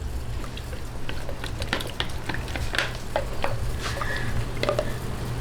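A spoon scrapes and stirs through a thick cornstarch mixture in a pot over a steady bubbling simmer, with scattered clinks and soft taps.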